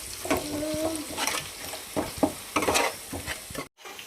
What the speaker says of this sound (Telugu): కొంచెం అల్లం పేస్ట్, పచ్చివాసన అంతా పోయేలాగా మంచిగా ఫ్రై చేసుకోండి